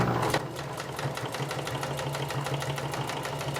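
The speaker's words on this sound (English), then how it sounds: "So when you're sewing, just kind of make sure you keep tension on especially the bottom part." Sewing machine stitching a fabric seam for patio chair upholstery, a steady fast mechanical whir with rapid regular needle ticks running continuously at close range, loud and alone.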